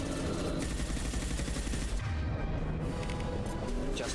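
Dense, continuous gunfire from the video game Mass Effect 2, rapid overlapping shots and crashes filling the whole stretch at steady loudness, with a brief dip midway and no clear talking.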